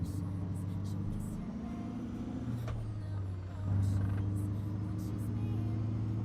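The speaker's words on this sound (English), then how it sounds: "So now the sound for the engine comes from JC's amateur engine pack." A truck engine from an amateur engine sound pack in American Truck Simulator drones steadily at low pitch, swelling louder partway through, with the occasional faint click over the top.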